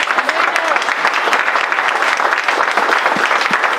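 Church congregation at an Easter service clapping continuously, a loud dense applause throughout with voices mixed in.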